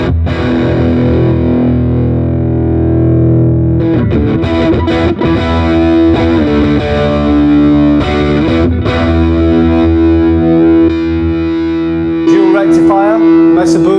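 Heavily distorted electric guitar played through a metal amp model on a Roland Cube 40XL combo, sustained thick chords and riffs filling the whole stretch, loud and saturated with no talking over it.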